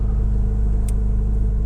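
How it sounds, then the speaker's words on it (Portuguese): A naturally aspirated Ford Escort JPS with an aftermarket exhaust rumbles at a steady idle, a close, constant low engine drone with no talking over it. "Esse escape ficou bacana porque eu acho que complementou"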